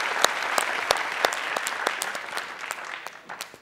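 A studio audience claps for a guest arriving on a talk show, a dense burst of applause with sharp individual claps standing out, close and loud, tapering off slightly at the end.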